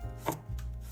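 A knife chops slices of fresh ginger and garlic on a cutting board in a home kitchen: three crisp, close chops spaced evenly within one second, with no voices.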